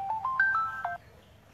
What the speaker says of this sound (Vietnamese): mình liên tục có điện thoại